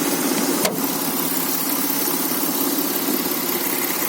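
Audi A6 C5 Avant with a 3.0 litre V6 petrol engine running under an open bonnet, a smooth, even, close idle hum with a single brief click early on.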